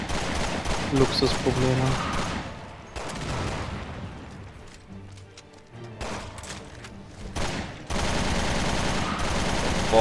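Gunfire from a heavy-recoil weapon in Resident Evil Revelations 2, bursts of shots with game music and effects, loud and repeated, with someone talking over parts of it.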